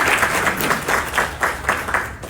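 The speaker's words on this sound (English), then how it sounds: "please welcome our sheikh with a warm round of applause" Audience applause greeting a sheikh as he takes the stage at a Friday lecture, a steady wash of clapping from a crowd, continuous and fairly loud for the whole stretch.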